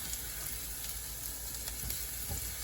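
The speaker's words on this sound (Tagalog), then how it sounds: "Bali, gigisahin ko muna yung atay." Pork liver sautéing in a pan with onion and garlic for igado gives a steady, fairly quiet sizzle with faint crackles throughout, no voices.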